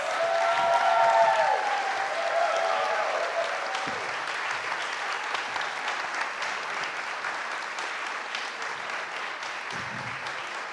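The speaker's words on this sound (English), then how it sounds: "how about a round of applause?" Sustained applause from a neighborhood association audience at a county supervisor event, a dense, even roar of clapping that holds steady for over ten seconds, with a faint voice briefly audible near the start.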